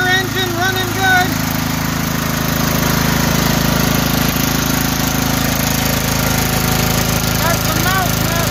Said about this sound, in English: There we are, donor engine running good.